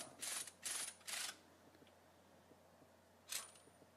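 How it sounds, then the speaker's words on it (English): A ratchet drawing a shaft support bearing bushing into place on a boat: three quick bursts of ratcheting clicks close together, a pause, then one more burst, close and fairly crisp over quiet background. "either put your ratchet or wrench or impact, whatever you're using, and you're going to draw that bearing in all the way till she bottoms out."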